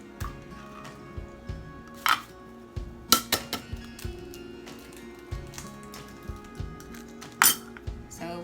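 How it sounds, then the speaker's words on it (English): Two eggs cracked against a bowl for a homemade avocado hair mask, giving sharp clinks and taps scattered through a quiet kitchen with light dish and cutlery knocks. "we're gonna go ahead and crack these eggs and put them in here"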